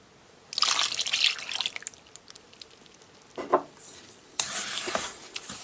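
Semolina batter stirred with melted butter and milk in a bowl, giving wet, sloshing, scraping strokes in a few bursts separated by quieter gaps, close and without talk.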